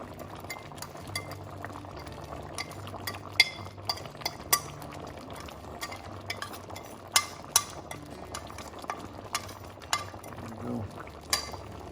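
Jamaican allspice being stirred into a simmering pot of red pea soup, with a quiet bubbling, liquid background and scattered soft clinks of a spoon against the pot, faint and without talk.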